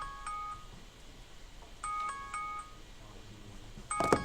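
An old mobile phone ringtone goes off in short bursts of repeated electronic tones, sounding three times with gaps between, the last burst louder with a clatter.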